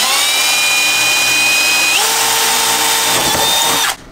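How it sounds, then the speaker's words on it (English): A power drill bores into the metal body of a camper van during a DIY build, a steady loud whine that drops in pitch partway through as it bites, then cuts off abruptly at the end. "I can drill wherever I want"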